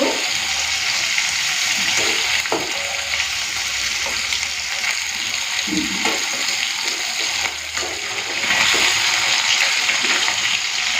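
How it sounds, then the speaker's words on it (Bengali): Fish frying in a pan on the stove, a continuous loud hissing sizzle over several seconds with occasional spits and small clinks, close by and without talk. "মাছটা যে একটু লাল করে ভেজে নিই তারপর তুলে নেবো"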